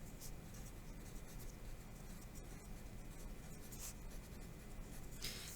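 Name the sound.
pen writing notes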